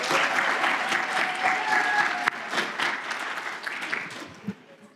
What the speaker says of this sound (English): Can we start with a round of applause for all of the interns that are here today?